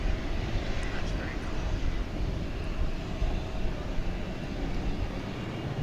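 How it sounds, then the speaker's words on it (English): Airplane on the night flight to Appleton passing at DFW Airport, a broad, steady roar holding at moderate level throughout, with wind mixed in and voices faintly underneath. "So here goes the flight to Appleton."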